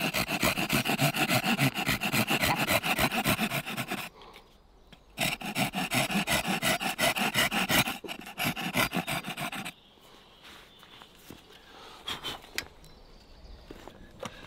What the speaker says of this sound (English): Using my saw, I'm now gonna cut in to take out 1/8